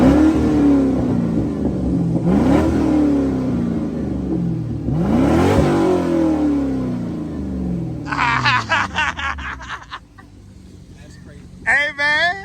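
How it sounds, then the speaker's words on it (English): A Corvette with its muffler deleted revs hard several times, each rise and fall of the raw exhaust loud and close. The revving then fades under a man's excited chatter. "we finna mash the gas"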